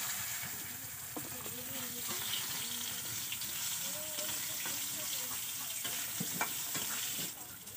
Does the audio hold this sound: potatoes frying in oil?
yes